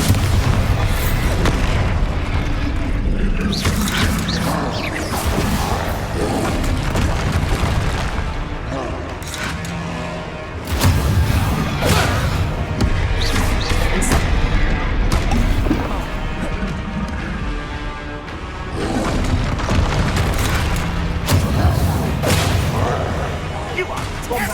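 Bombarda and Confringo spell explosions in the video game Hogwarts Legacy, a dense run of loud booms and crashing blasts rolling over each other throughout, with a voice talking over the combat.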